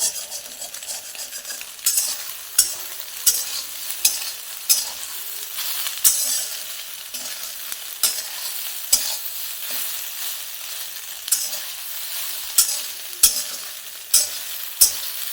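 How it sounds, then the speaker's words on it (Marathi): Soybean fry is stirred steadily in hot oil in a pan, a constant crackling sizzle punctuated by regular sharp scrapes and clinks of a spoon against the metal, close and alone without talk. "दोन 3 मिनटासाठी असं सारखं हलवत राहायचं."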